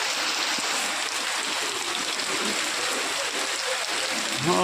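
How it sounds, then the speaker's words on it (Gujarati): Heavy rain pours steadily on the Dwarka–Porbandar highway, a dense, continuous hiss that fills the whole stretch at a loud, even level. No one speaks over it. "જોરદાર વરસાદ છે મિત્રો"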